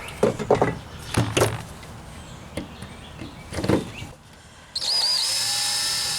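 Power drill boring slowly into a broken rusted bolt with lube sprayed into the hole, short grinding bursts separated by pauses, then a steady high whine near the end, close up, no speech.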